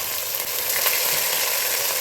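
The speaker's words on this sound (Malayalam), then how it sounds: "ഇനി നമുക്ക് ഇതിലേക്ക് കഴുകി വെച്ചിട്ടുള്ള അരി ഇട്ട് കൊടുക്കാം" Washed rice goes into a hot pan of ghee and fennel seeds, giving a steady, close sizzle and frying hiss throughout with no talking.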